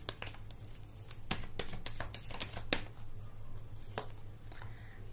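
Tarot cards shuffled by hand in short bursts of crisp riffling and soft slaps, with quiet pauses between, close and fairly soft against a steady low hum.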